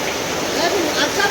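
Floodwater from heavy rain rushes through Dungi village in a continuous loud hiss and roar, close by, with a voice faintly present beneath it.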